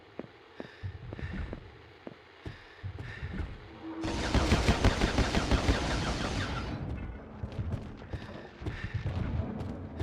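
Gunfire in the video game Silent Hill: Origins, a loud dense burst of rapid shots lasting a few seconds mid-clip, set among scattered game thumps and impacts.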